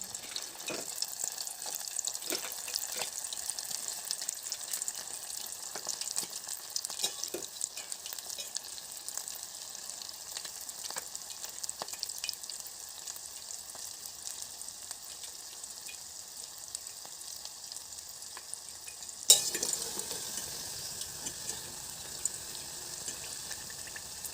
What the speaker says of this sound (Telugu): ఇప్పుడు మళ్ళీ వీటిని ఆయిల్ హీట్ చేసుకొని మళ్ళీ ఫ్రై చేసుకోవాలి.